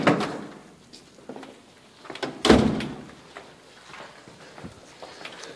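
A door in a humid police department building is pulled open, giving a short, fairly loud clunk and rattle in the middle of quiet room tone, with faint shuffling around it.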